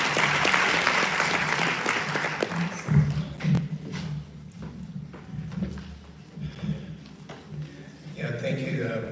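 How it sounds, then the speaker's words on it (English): Audience applause at a World Day of Safety and Health at Work commemoration, a broad wash of clapping that fades after a few seconds into hall noise, scattered claps and a speaker's voice. "One strong round of applause for ILO."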